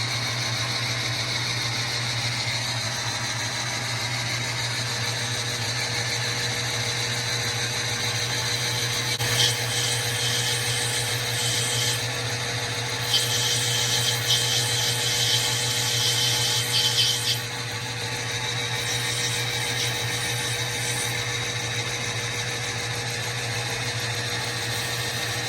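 A machine steadily cuts one hundred thousandths off a part during a Tremec TKX transmission installation: a continuous close whine and hum, with a harsher, higher cutting hiss for stretches in the middle.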